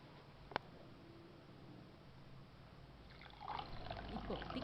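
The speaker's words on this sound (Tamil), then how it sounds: "கொஞ்சம் தண்ணி விட்டுக்கலாம், நமக்கு தேவையான அளவு" Water poured into a pot of gosthu cooking on the stove: a faint, quiet background hum at first, then a soft trickling pour that rises and continues to the end, with one small click early on.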